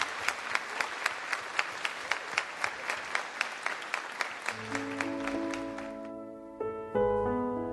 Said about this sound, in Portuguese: Vamos aplaudir ao Senhor por essa grande família.